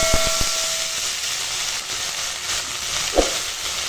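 Water poured onto fried vegetables in a hot pan for a Bengali ash gourd greens dish, giving a steady broadband sizzle and hiss with a few short clinks at the start and a brief sharper burst near the end.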